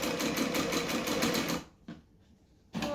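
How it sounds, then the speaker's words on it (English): A sewing machine topstitching fabric whirs in a rapid, steady run for about a second and a half, then stops, with a couple of faint clicks before a short restart, close and alone. "I'm going to top stitch"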